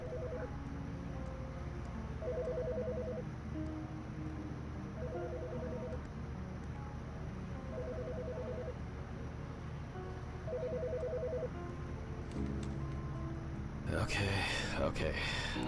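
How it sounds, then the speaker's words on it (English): A telephone ringtone repeating in short, evenly spaced electronic bursts under a low room hum, followed by a rustling pickup at the end. "The fucking phone."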